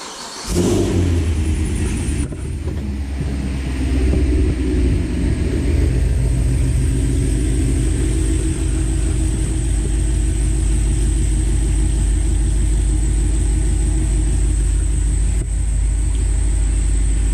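A Pontiac GTO engine cranks and catches, then runs steadily at a loud, deep rumbling idle with a slight rev, close up and without talk.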